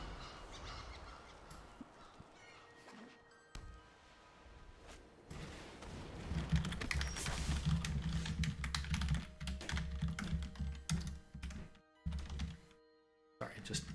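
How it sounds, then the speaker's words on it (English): A computer keyboard is typed on in bursts of quick clicks and thunks, with pauses between them and speech during some stretches. "I was just typing out some stuff."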